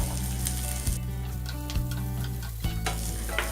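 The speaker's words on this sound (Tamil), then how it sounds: "வெங்காயம் பொன்னிறம் ஆகிற வரைக்கும் வதக்கிக்கலாம்" Shallots, seven or eight garlic cloves and a small piece of ginger sauté in oil for a dry fish kulambu, giving a steady close sizzle broken by a few stirring scrapes, with no talking.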